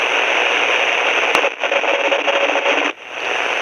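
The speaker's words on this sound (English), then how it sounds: "that's the Morse code station that I picked up overnight" A Grundig FR200 shortwave radio tuned to a Morse code station, giving a loud, steady hiss of static with a faint tone, a sharp click near the middle and a brief dropout near the end.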